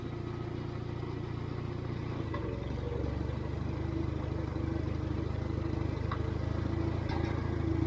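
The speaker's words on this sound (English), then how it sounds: "Let me see if I can get this thing to start. I just kind of ease out of here in first gear." A Farmall 350 tractor starts and eases out in first gear, its engine giving a low, steady, slightly clattering chug that deepens and strengthens a little after a couple of seconds, then settles into an even run.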